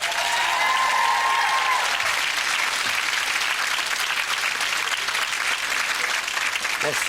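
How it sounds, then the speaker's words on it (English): A television chat-show studio audience cheers and applauds for a birthday mention, producing a loud, dense and continuous wash of clapping with some cheering that holds steady from start to finish. "Give him a big cheer."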